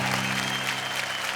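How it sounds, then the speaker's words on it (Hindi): Dense, loud applause from a studio audience fills the moment for poet Santosh Anand, steady and continuous with a low musical hum underneath. "जोरदार तालियां संतोष आनंद के लिए"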